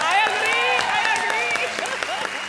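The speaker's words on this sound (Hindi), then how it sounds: "जोरदार तालियां भैया." Studio audience applauding at a comedy show, a steady patter of clapping mixed with voices and laughter.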